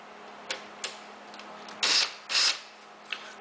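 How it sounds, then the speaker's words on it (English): A hand screwdriver undoes screws on an E3 Flasher device, giving a few short scattered ticks and two louder rasping turns, close and isolated. "Alright, we've got a few more screws to undo here."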